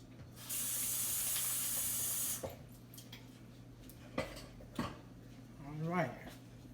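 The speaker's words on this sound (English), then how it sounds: "wash my hands right quick." Running tap water gushes steadily for about two seconds as hands are washed at a kitchen sink, followed by quieter clicks and knocks and a brief voice.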